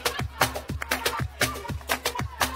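A cajón beating out a rumba pattern, with deep thumping bass strokes alternating with sharp slaps in a steady driving rhythm, close and prominent, heard without voices.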